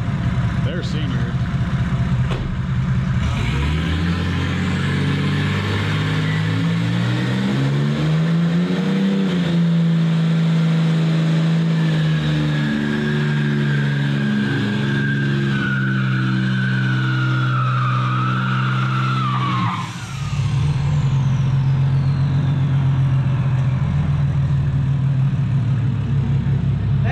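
A 1987 Mercedes W126 300SD turbo diesel revs hard and spins its tires in a burnout, loud rising engine roar with a long tire squeal, close by, while people shout and talk over it.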